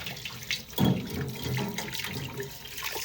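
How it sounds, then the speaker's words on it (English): Dirty water splashes and gurgles as it pours out of a stainless steel pot into a sink, a close, irregular stream with a louder gush partway through. "dirty water out"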